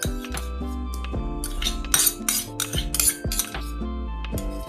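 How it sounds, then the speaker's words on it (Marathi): A spoon clinks against a metal bowl as leftover pickle masala is scooped into paratha dough, with a string of close, bright taps and scrapes in an uneven rhythm. "हा मसाला पण याच्यात टाकून घेते आहे"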